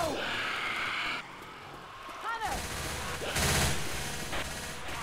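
Rapid bursts of M16 assault rifle fire in a Left 4 Dead 2 match, mixed with game effects and impacts, loud and close across most of the stretch with brief lulls.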